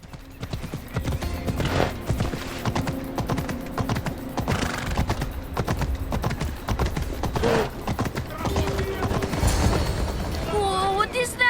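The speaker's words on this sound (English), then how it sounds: "I need to take this horse to either Adonis or to the stable boy" Horse hooves clip-clop steadily in the ancient Greek setting of the video game Assassin's Creed Odyssey, a continuous rhythmic trot heard up close with a brief whinny near the end.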